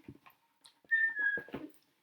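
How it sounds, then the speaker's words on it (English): A short whistled phrase, several quick notes, then one longer sliding tone, clear and close in a quiet space, with no talking. "Give a little whistle."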